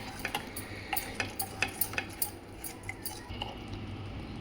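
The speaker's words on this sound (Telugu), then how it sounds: "పెరుగు యాడ్ చేసినప్పుడు సిమ్లో పెట్టి తిప్పాలండి" A spoon scrapes and clinks around a pot of potato kurma with yogurt over low heat, with soft irregular taps and a faint simmer underneath, no talking.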